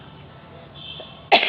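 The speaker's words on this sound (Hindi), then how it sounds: "मेरी खांसी नहीं जा रही है," A woman's cough at home, a single sharp burst near the end after a stretch of quiet room noise.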